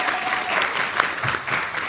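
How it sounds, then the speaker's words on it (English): Audience applause at a bootcamp kickoff event, a dense, steady wash of many hands clapping at once, loud and sustained without a break, with faint voices mixed in. "give yourselves a round of applause"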